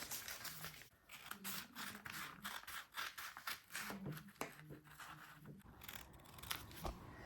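Scissors cutting through paper while a basic long sleeve pattern is trimmed out, quiet close snips in an irregular run with faint rustling between cuts.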